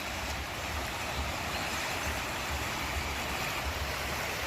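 River in Lençóis, Bahia, swollen after rain, a constant dense rush and churn of foaming water that stays loud and even throughout, with no voices.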